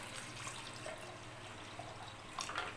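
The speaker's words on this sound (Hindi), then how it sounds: "तो उनके लिए जो ये पानी ठंडा मैं डाल लूँ" Cold water trickles and splashes into a jug while making falsa fruit sharbat, faint and quiet with a few small drips and splashes near the end, no one speaking.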